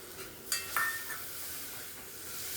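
A tomato cooks in onion and oil in a pan, giving a steady soft sizzle with a couple of brief stirring scrapes and clinks near the start, and no talking.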